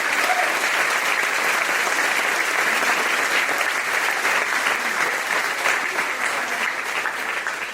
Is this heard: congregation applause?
yes